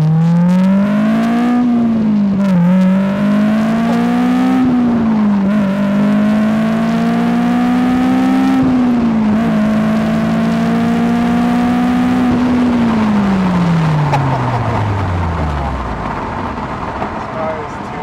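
A Honda S2000 exhaust fitted with a high-flow catalytic converter drones steadily while driving, recorded close to the tailpipe, its tone rising and dipping through shifts before easing down at the end, loud and continuous.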